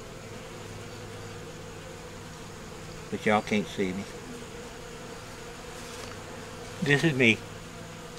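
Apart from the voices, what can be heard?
honey bees buzzing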